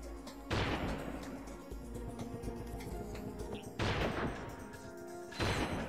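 Three heavy, booming sniper rifle shots in the video game Ratchet & Clank Going Commando, spaced several seconds apart, each a loud crack followed by a rumbling decay over a steady game soundscape.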